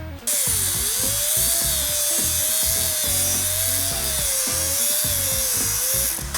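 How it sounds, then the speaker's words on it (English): An electric drill clamped in a vise spins a bolt held in its chuck for finishing, a steady loud motor whine with a faintly wavering pitch and scraping and rubbing from the finishing work, running continuously with no talk. "I would mount an electric drill in the vise, push the button, lock it on, put the bolt in the chuck"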